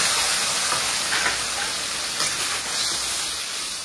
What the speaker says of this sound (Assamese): ধুনীয়াকৈ এতিয়া ফ্ৰাই কৰি ল'ম